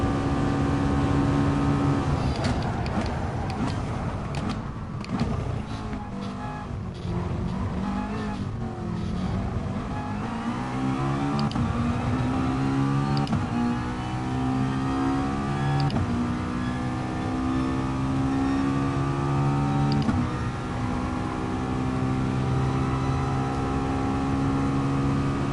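High-performance cars including a Mercedes, a Bugatti Veyron and a McLaren race in a video game, their engines droning and rising in pitch as they accelerate, loud and steady throughout with no talk.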